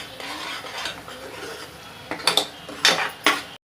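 Masala being stirred in a pan for Dhaba-style palak dal, a low steady background giving way to three sharp metallic scrapes and clinks of a spoon against the pan near the end.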